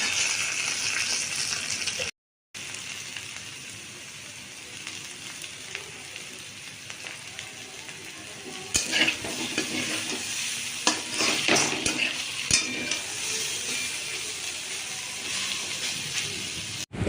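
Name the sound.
curry leaves added and stirred into sizzling sambar dal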